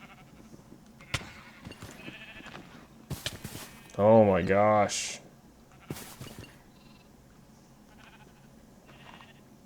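A sheep in a pen in the game RLCraft gives one clear, wavering bleat in the middle, loud and close, amid sparse footsteps and clicks, with a person briefly speaking.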